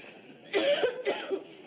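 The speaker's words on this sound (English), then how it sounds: "Still got that cough, huh?" Two rough coughs sound close up, one after the other, with a short throaty tail after each.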